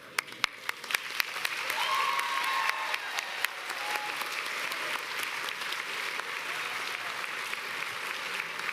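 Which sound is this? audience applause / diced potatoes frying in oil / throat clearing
audience applause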